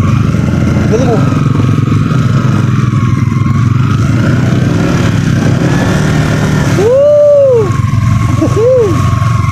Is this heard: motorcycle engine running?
yes